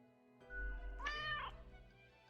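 A cat meows once in the video game Death and Taxes, a clear, close, drawn-out call rising and falling over a quiet, low, steady musical background.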